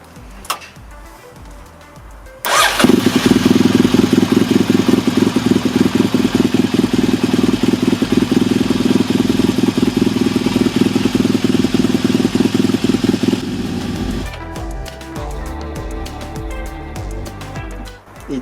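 A Yamaha XTZ 750 Super Tenere motorcycle engine fires up after a few faint clicks and settles into a loud, close, steady idle with a rapid regular beat, then shuts off, leaving quiet background noise.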